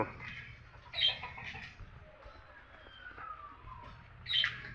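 Faint, brief chirps from caged all-white birds at two moments, set against quiet background noise and low rumble.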